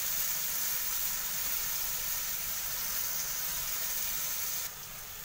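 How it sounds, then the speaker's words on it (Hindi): Onion and garlic fry in hot oil, a steady close hiss and sizzle running throughout that drops slightly in level just before the end. "हमारा एकदम बढ़िया सा प्याज लहसुन पक रहा है"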